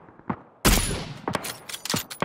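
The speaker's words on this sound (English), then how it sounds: "They're shooting at me." Gunfire in a PUBG match: a faint distant shot, then a sudden loud burst followed by several sharp, irregular shots of varying strength, close by with no talking.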